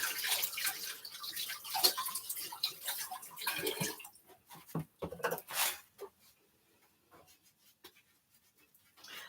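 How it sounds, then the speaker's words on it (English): Hands being washed under a running kitchen tap while baking cookies, a fairly close broadband splash of water for about four seconds, then trailing off into scattered drips and small handling sounds. "I'm just going to wash my hands again because I had to use my hands to break this up."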